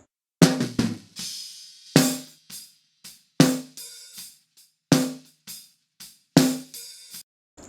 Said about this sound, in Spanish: la cosa es escucharlo junto con el micrófono de arriba y suena así.